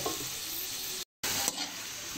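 Pork seasoned with fish sauce and cracked pepper sautés in a pan, a continuous close sizzle with stirring, broken once by a short silent gap before resuming.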